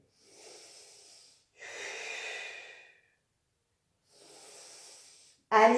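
Deep, breathy inhalations and exhalations during a Pilates exercise, three long airy breaths close to the mic separated by silent pauses, followed by a sharp, louder burst at the very end.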